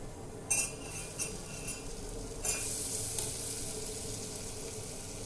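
Masala paste for matki misal sautéing in hot oil in a pan. A few metallic spoon clinks and scrapes come first, then a soft, steady sizzle settles in at moderate volume, with no talking.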